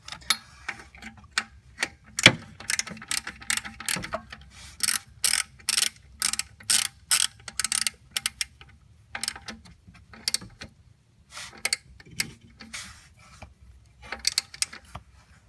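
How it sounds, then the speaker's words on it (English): Ratchet tightening the bottom alternator bolt on a 1993 Jeep Wrangler with a 4.0 engine: bursts of rapid metallic clicking in quick runs separated by short pauses, close and fairly clear, with no talking. "now let's take our ratchet and we're going to tighten the bottom bolt up"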